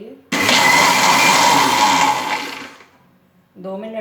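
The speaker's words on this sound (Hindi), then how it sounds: "अब मैं इसको जार में डाल के ग्राइंड करती हूँ।" A blender jar grinds peeled, cooled plums (aloo bukhara) for juice. The motor starts abruptly and whirs loudly for about two seconds, then winds down, and a voice speaks briefly afterward.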